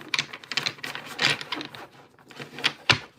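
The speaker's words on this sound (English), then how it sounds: "We'll shuffle again." Tarot cards being shuffled by hand, a series of crisp riffling and slapping bursts in uneven rhythm, close up, with brief pauses between shuffles and no talk.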